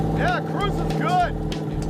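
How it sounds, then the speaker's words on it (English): Old Ford Model A hot rod cruising with a loud, steady low engine drone and rumble filling the cabin, while people talk over it. "It sounds like a hot rod in here with all the noise."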